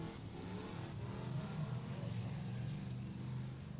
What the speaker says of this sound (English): Car number 27 will be Jesse Helton rolling out, getting things started for our Hidden Hollow Hobby Stocks